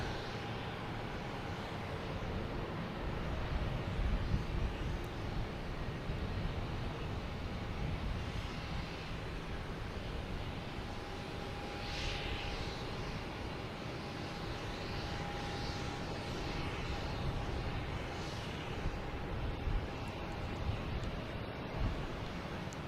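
A JetBlue Airbus A220 airliner flies over Boston Logan Airport at night, its engine roar a steady, broad, moderately loud rumble lasting throughout, with light wind noise and no talk.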